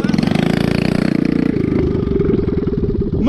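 A mini quad bike ATV engine revs hard close by, its rough pulsing putter rising in pitch as the throttle opens and then holding a fast, loud buzz.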